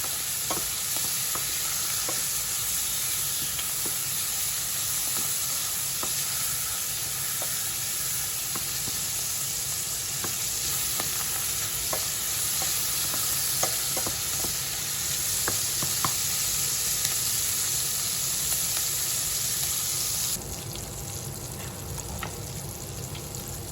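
Pancetta browning in a pan for a homemade lasagna, with a steady close sizzle and frying crackle plus light stirring scrapes, continuing for the whole stretch and easing slightly in volume near the end.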